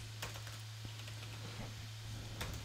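Soft, quick key clicks from typing on a computer keyboard, close by, over a steady low hum with no talking.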